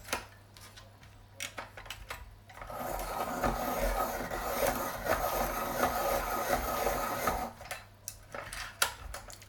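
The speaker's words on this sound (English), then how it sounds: "I'll say it again, I love this sharpener." A Derwent Super Sharp pencil sharpener grinding a coloured pencil, a continuous rasping whir for about five seconds between softer handling clicks and taps, close and fairly quiet with no speech.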